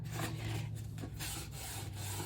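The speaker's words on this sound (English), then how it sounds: "I just rip off the packaging to reveal the craft colored cardboard container." Rough tearing and rubbing sounds come in short strokes, close by, as packaging is ripped away from a kraft cardboard container.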